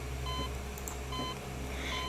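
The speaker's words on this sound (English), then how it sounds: "Hearing the constant beeping sound is getting very annoying." Repeated short electronic beeps sound in a video game hospital-bed scene, steady intermittent tones over a constant low hum and background noise, fairly faint.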